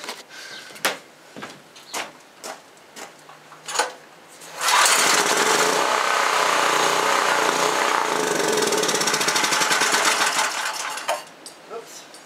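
A small engine sprayed with carburetor cleaner is cranked: several short pulls or knocks, then the engine catches and runs loud, rattly and steady for about six seconds before dying back to a few clanks.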